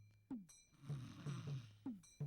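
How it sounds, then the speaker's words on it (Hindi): A woman snores in her sleep, close and fairly quiet, with a few rasping intakes and a rattling, drawn-out breath in the middle. "तू इस तरह से खर्राटे लेगी तो मैं कैसे सोऊंगा?"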